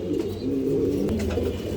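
Pigeons at a breeding farm coo in low, throaty, overlapping rolls, close and continuous for a couple of seconds with no talking.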